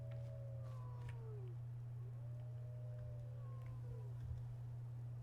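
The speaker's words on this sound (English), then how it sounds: "I hear puppies." Dogs or wolves howl in Skyrim: several faint, drawn-out wavering howls that rise and fall in overlapping calls over a constant low hum.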